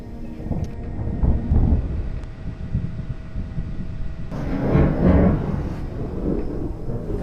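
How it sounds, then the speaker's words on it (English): Thunder rolls through a stormy sky, rumbling low and broad with a louder, fuller burst near the middle, while steady rain hiss fills the background. No one speaks. "Thunderstorms are full of surprises for kayakers."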